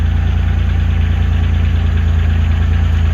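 A Buick engine with nearly 170,000 miles idles steadily at close range, a loud, even low rumble with constant vibration and no other sounds or voices.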